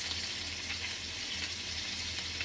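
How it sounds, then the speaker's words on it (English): Hamburger patties fry in a pan with a constant crackling sizzle and scattered pops, steady and moderately close throughout, with no talking. "I am frying hamburgers for my first meal of the day"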